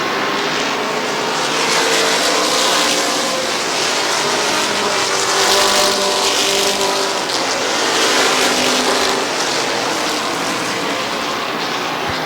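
Stock cars roar around Midvale Speedway during a fall race, engines droning loud and steady as the pack passes, swelling and fading slightly with no talk over it.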